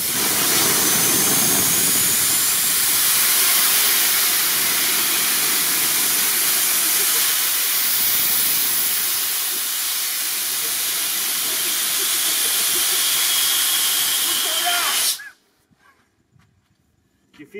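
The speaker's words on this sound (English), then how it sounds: "I don't have the right fittings for this compressor, but I'm dying to use it for something." An air compressor nozzle blows air, a loud continuous rushing hiss close to the microphone that holds for about fifteen seconds and then cuts off abruptly, leaving near silence.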